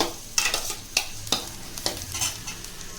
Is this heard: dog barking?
no